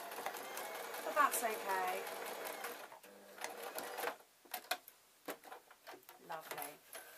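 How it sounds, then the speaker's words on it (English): A sewing machine stitches a knitting bag in short bursts of rapid mechanical whirring and clatter, up close, with someone talking over the first part. "So I'm going to sew the bag rather than the bamboo."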